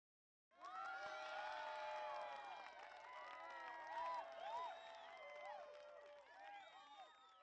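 Crowd cheering from a video game, Albert Odyssey: Legend of Eldean, forms a continuous, faint wash of voices and whoops that starts abruptly and holds steady with slight swells.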